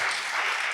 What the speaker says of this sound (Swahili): Wamwongezee tu makofi.